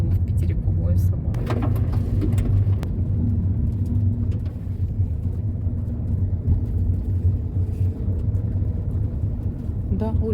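A car drives along a town street with a steady engine and road rumble throughout, close and continuous. A few faint knocks and rattles sit on top, and voices can be heard under it.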